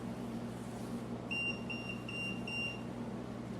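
A K2 EMF meter sounding a short run of thin electronic beeps, about four evenly spaced pulses over a constant low hum of room noise, with no voices.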